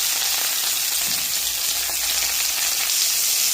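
Pointed gourd (potol) frying in hot oil, a steady, continuous hiss and crackle that holds at an even level close by, with no voices.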